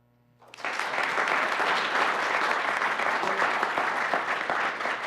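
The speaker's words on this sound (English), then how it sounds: "So please join me in clapping" Clapping from an audience at a work session honoring a staff member: after half a second of quiet, dense applause swells in abruptly and holds steady and loud to the end.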